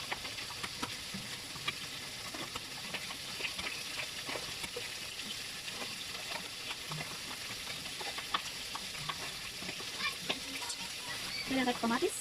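Garlic sizzles and fries steadily in a hot pan while being stirred, with scraping clicks of the utensil scattered over the continuous crackle for about twelve seconds.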